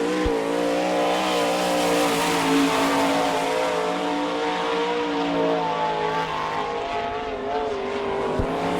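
Sprint car number 14 on a timed lap at the Bauman Memorial, an All Star Circuit of Champions race in Sarver, Pennsylvania, its engine droning loud and steady throughout with a harmonic whine that shifts slightly in pitch as it circles the track.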